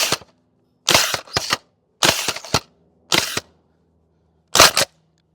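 An airsoft GM6 Lynx sniper rifle fires four loud, sharp cracks spaced about a second apart, each with the bolt and barrel cycling, the shots close and clear over near silence, with one more crack after a longer pause.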